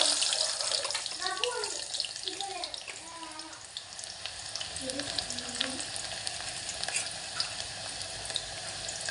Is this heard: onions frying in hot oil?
yes